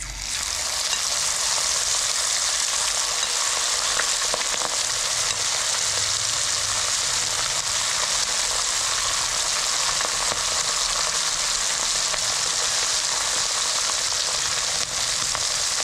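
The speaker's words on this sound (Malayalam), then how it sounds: "ഇനി അതിലേക്ക് നമ്മൾ മസാല പുരട്ടി വെച്ചിട്ടുള്ള മട്ടൻ ഇട്ട് കൊടുക്കാം" Loud, steady sizzling of masala-coated mutton frying in hot oil for pickle, a continuous crackling hiss with no pauses and no voices.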